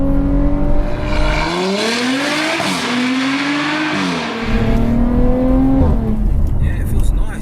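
A tuned Audi RS5 TDI revs hard, its exhaust tone climbing and dipping through several sweeps, loud and close, with a brief lift-off in the middle before building again.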